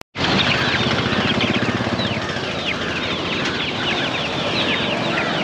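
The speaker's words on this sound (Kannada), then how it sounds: "ಕೋಳಿಗಳವೆ" Chickens cluck and squawk in a dense, constant chorus at a poultry market near Magadi outside Bangalore, loud and close, with wings flapping among the birds.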